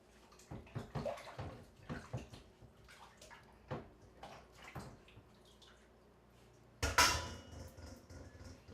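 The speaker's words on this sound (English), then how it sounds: "first thing I do is I clean this thing off in the sink" Juicer parts are rinsed under running water in a kitchen sink, with clattering knocks of plastic and metal parts, splashing and a loud burst of gushing tap water near the end, all close and with no talk.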